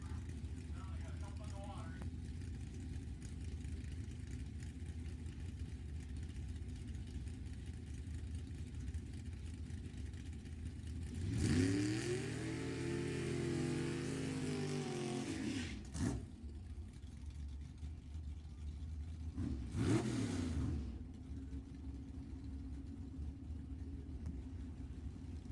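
Drag racing cars at an NHRA Super Pro E.T. final, a high-tech 1967 Camaro and a basic 1978 Camaro, roar in a loud burst of several seconds, followed by two short revs, with a low rumble and crowd murmur in between.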